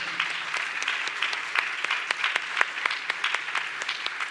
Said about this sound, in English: Give a big round of applause to Amway.